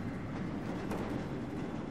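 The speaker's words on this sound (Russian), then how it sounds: "Так, и у нас есть вагонетка." Mine cart rolling along rails in the video game Black Mesa, a steady continuous rumble with faint rhythmic clatter, loud and unbroken throughout.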